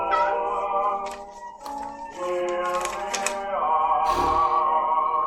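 A cat in a horror film meows in drawn-out, wavering cries, close and fairly loud, with clicking and rattling noises in the background.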